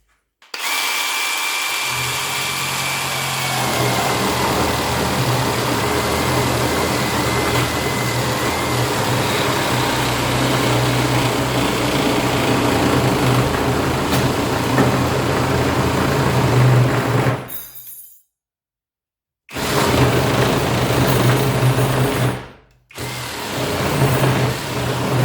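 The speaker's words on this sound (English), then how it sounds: "will cut the wood with the screws inside" A Parkside PSSAP 20-Li cordless sabre saw cuts through wood with screws embedded inside, a loud, steady buzzing drone with a rough rasp that runs continuously, then stops briefly twice near the end before restarting.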